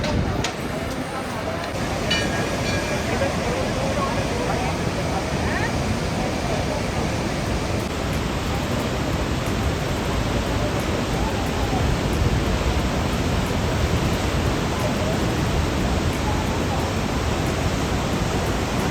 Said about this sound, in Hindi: ये है सरस्वती नदी